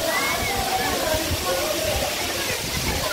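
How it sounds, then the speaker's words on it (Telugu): A forceful waterfall at a rocky hillside pool where people bathe, heard as a loud, steady broadband rush of falling, splashing water that fills the whole stretch without a break. "మనం చూసారు కదా వాటర్ ఏ విధంగా పడుతుందో. అక్కడ వాటర్ అనేది గట్టిగా తగులుతుంది."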